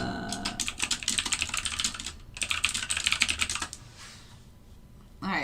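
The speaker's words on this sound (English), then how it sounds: "Why do you type so slow?" Fast keyboard typing on a computer during a live trading session, bursts of close, loud clicking that pause briefly mid-way and trail off near the end.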